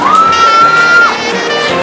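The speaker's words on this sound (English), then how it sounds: "Please cheer them up." A college festival audience cheering and shouting for students, with a loud sustained whistle rising over the noisy crowd.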